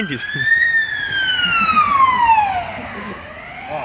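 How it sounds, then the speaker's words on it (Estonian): An ambulance siren wails loudly and close by, one long sweeping tone that rises and then falls over about three seconds, with street noise and a voice underneath. "Kiirabi."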